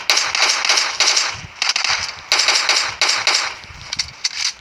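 Gunfire in the video game PUBG Mobile: bursts of sharp, crackling shots fired in quick clusters, separated by short pauses, loud and close, with no talk over them.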